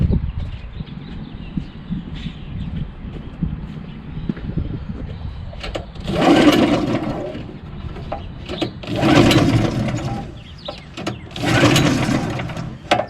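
EZGO 1200 Workhorse utility golf cart, repowered with a loosely fitted clutch on the crankshaft, cranking on the key: a whirring mechanical rattle, then three louder surges of engine cranking a few seconds apart, close by.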